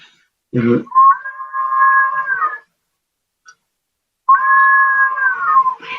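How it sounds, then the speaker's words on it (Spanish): A ceramic water whistle bottle, sounded by the water inside it, gives two long, wavering, breathy whistles, each a couple of seconds, separated by a pause, after a short burst of noise. "Las botellas silbato funcionan con agua"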